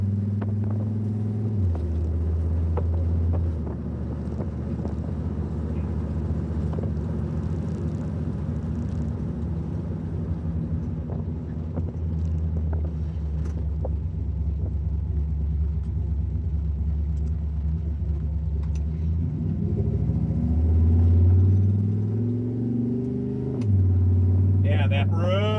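A restored truck driving on a street, its engine rumbling loudly and steadily with audible shifts where the transmission changes gear late and hard, while people talk over the engine noise.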